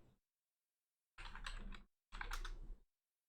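Keys clatter on a computer keyboard while someone types Weebly into a Google search, in two quick bursts of rapid, close keystrokes separated by a short silence.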